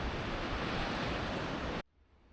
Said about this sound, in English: The ashen volcanic sand recedes gently into the churning embrace of the foaming sea.